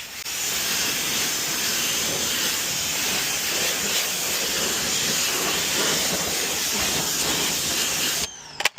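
Close-range pressure washer spray blasts car tires in a loud continuous hiss, cutting off abruptly near the end with a few small clatters.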